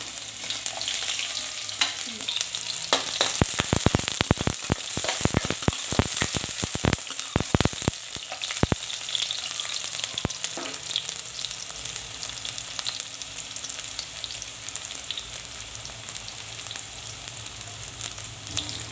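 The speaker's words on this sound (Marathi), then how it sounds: "तेल गरम झालं त्याच्यामध्ये कांदा" Chopped onion frying in hot oil in a pan for a cooking dish of hadga flowers, a loud steady sizzle close by with a cluster of sharp crackles and stirring scrapes midway, no voices.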